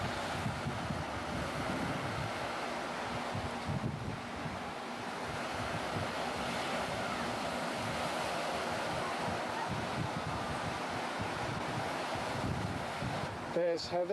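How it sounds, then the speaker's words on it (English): Ocean surf rolling in at Myrtle Beach in 1990, a steady, continuous wash of waves with heavy wind buffeting the microphone throughout, and a brief clatter near the end. "There it is, the ocean, in all its low-resolution glory."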